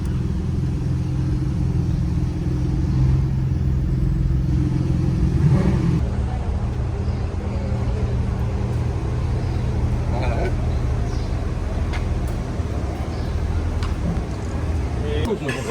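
Porsche sports cars roll onto a shopping centre plaza to be parked in the middle for display: a loud, steady low engine rumble with a mild rev swell partway through. Traffic-like noise fills the background and people talk throughout.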